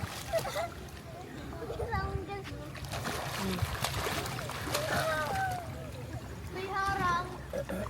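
People swim in a resort pool in the evening, and water splashes and sloshes steadily throughout. Children and adults talk and call out over it nearby.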